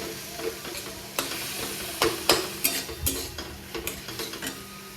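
Whole cumin, bay leaf and dried red chilli sizzle in hot oil, a soft steady fizz broken by sharp scrapes and clinks of stirring at irregular intervals, close and alone.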